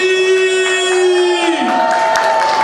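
A crowd at a Comorian wedding fair in Paris cheers and shouts, with loud sustained voices and music-like tones sounding up close amid the noise.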